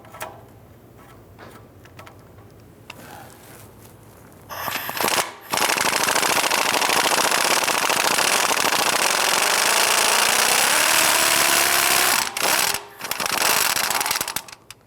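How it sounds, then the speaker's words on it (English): Impact wrench hammering on a rusted exhaust manifold bolt, driver's side of a 1999-2004 Jeep Grand Cherokee 4.7L V8; after quiet shop noise, a loud sustained rattling burst runs about seven seconds, pauses briefly, then resumes. "we'll try and loosen this bolt here"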